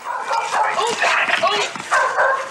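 A police tracking dog gives excited yips, whimpers and barks close by during a search for a fleeing driver, the sounds coming in uneven bursts with some voices mixed in.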